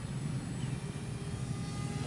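A foam board T-45 Goshawk RC jet plane flying, a continuous motor drone that stays steady and moderately loud throughout, with no clear talking.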